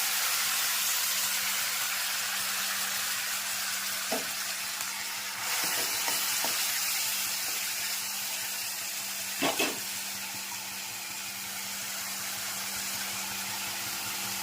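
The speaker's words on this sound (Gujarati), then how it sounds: "વઘાર થઈ રહ્યો છે." Mustard seeds, cumin, chilli and curry leaves sizzle in hot oil as a tempering for a fenugreek-leaf vegetable dish, a steady close hiss with a few faint clicks of a spoon against the pan.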